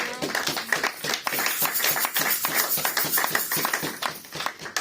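Church congregation applauding the Lord during a Sunday worship service, steady rapid hand claps from many people filling the room, some loud near claps over a dense crowd wash, continuing without pause.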